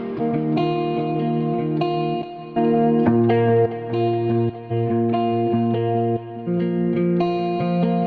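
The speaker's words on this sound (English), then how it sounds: "Now that you got nice delay and reverb, you can add a guitar amp in the beginning of the effect chain." A clean electric guitar riff through an amp with delay and reverb, plucked notes ringing in a steady melodic pattern with echoing tails.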